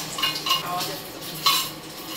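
An omelette fries in a pan on a home stove. A light sizzle runs underneath while a spatula gives several quick scraping and clinking strokes against the pan.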